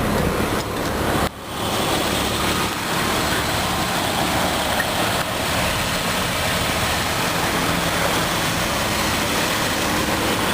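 A 2004 Jeep Grand Cherokee Columbia Edition with a 4.0 liter engine idles steadily outdoors, a constant low rumble with broadband wind noise over it and no talking.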